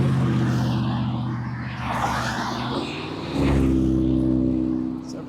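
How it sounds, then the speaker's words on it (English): Several loud cars pass close by a cyclist on a daily road ride, a continuous engine and tire roar that swells as each vehicle goes by, with a louder pass near the end. "several loud cars there."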